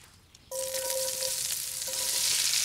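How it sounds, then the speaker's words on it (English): After a brief quiet moment, a loud steady sizzle of vegetables frying in a hot pan over a campfire starts abruptly and continues without a break. "let's see how much the vegetables sizzle up."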